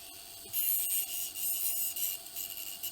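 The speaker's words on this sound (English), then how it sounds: "the spindle is rubbing against the plastic" A loose spindle on a Telefunken unit scrapes against plastic as it moves, producing quiet, hissy rubbing strokes in uneven bursts, with a few faint clicks.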